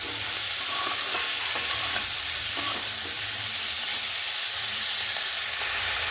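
Mixed vegetables are stir-fried with tempering spices in a pan, a continuous close sizzle broken by the knocks and scrapes of a spatula.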